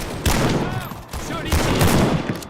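Gunfire from the WW1 video game Over the Top: dense rifle and machine-gun volleys crack close and loud, with short bursts overlapping into a continuous fusillade across a battlefield din.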